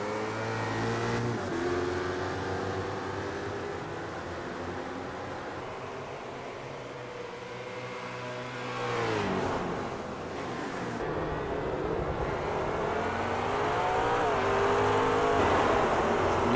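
Grand Am race cars circling a track in a pack, a steady loud engine drone with rising and falling revs as cars pass, continuous throughout with no talk.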